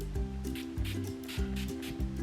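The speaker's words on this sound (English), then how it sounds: "I'm gonna quickly apply the setting spray." Four short, breathy spritzes of a makeup setting spray bottle in an even rhythm, close by, over quiet background music.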